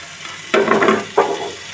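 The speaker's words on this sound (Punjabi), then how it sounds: "ਇਹਨੂੰ ਕਰਾਂਗੇ ਜੀ ਮਿਕਸ ਥੋੜੀ ਦੇਰ ਇਹਨੂੰ 4-5 ਮਿੰਟ ਤੜਕੇ ਦੇ ਨਾਲ ਹੀ ਭੁੰਨਾਂਗੇ" Green peas and grated cabbage sizzle in a hot masala tempering, with two quick bursts of stirring and scraping close by and a faint frying hiss between them.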